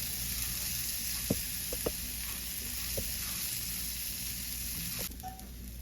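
Rice toasting to light golden brown in a pan for Mexican rice, a continuous soft sizzle with a few scattered clicks of stirring and a slight drop near the end.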